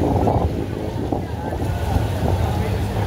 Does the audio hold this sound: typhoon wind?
yes